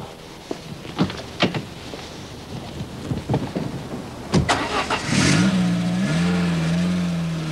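A Citroen ZX with a Peugeot 205 GTI engine makes scattered mechanical clicks and knocks, then its engine fires and revs up into a loud, steady drone that rises and settles as it drives off.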